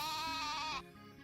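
A goat in the farming game Story of Seasons: A Wonderful Life lets out a single wavering bleat lasting nearly a second, clear and upfront, followed by quiet background.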